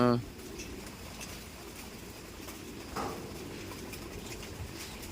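Racing pigeons at a loft, with soft cooing and faint bird sounds in a low, steady background, some clattering, and nearby voices talking over them.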